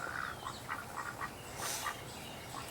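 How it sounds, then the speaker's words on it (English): A duck quacks outdoors in a short series of faint, fairly distant nasal calls, spaced irregularly with quiet gaps between them. "Quack, quack. That's what the ducky says."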